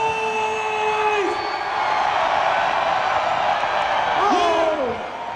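A crowd at a New Year's celebration cheers and whoops loudly and continuously, with music and amplified voices ringing over the din.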